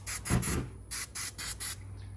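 Non-stick spray hisses onto chicken on a grill in about six short bursts, the first long and loud, then shorter even spurts in a quick rhythm, close and clear over a low steady hum.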